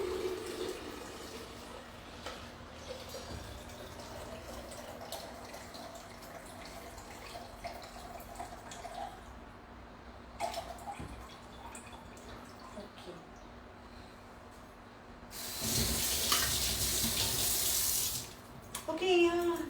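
Juice poured into a glass for a cocktail drink, a steady close liquid stream running several seconds with a louder splashing pour near the end.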